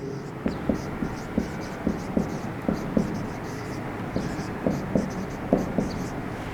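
Chalk or marker writing on a board during a chemistry lesson on redox reactions and oxidation numbers: a run of light, quick tapping and scratching strokes in short bursts over a low room hum.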